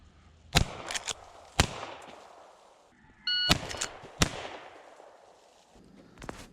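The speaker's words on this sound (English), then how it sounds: "we're going to shoot them both with the rifle since we've never had the opportunity to fire it before" Rifle shots from a Rossi 92 lever-action rifle fired outdoors: four sharp, loud reports spread over several seconds, each followed by a short echoing decay, with quieter handling sounds between them.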